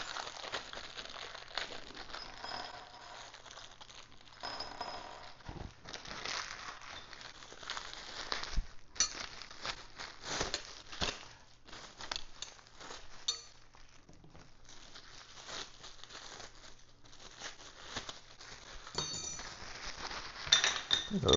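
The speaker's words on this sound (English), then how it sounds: "There's a lot of plastic bags." Plastic bags crinkling and rustling while a record player table is unboxed, a steady busy handling noise with light clinks of parts, close and continuous for the whole stretch.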